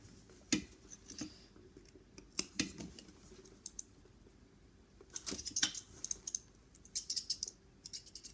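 Metal scissors clink and tap in a handbag sewing session, scattered sharp metallic clicks and rattles in irregular bursts, close and fairly crisp.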